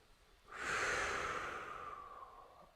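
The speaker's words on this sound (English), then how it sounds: "It's okay to make some sound as you inhale and as you exhale." A single long, audible yoga breath close to the mic, rising quickly into a breathy rush that slowly fades out.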